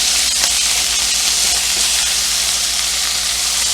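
Pan-seared salmon with crispy skin sizzles loudly and continuously in a frying pan, a dense, close crackling hiss with no talking.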